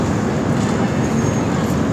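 Interior of a moving train leaving Varanasi, a continuous loud low rumble and rattle with no distinct events, steady throughout.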